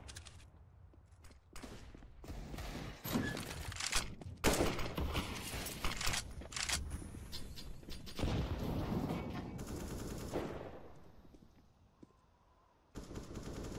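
Automatic gunfire and single shots from a Counter-Strike style competitive shooter match, with bursts of rapid fire and scattered footsteps and mechanical clicks, loud and close, briefly dropping near silent before resuming.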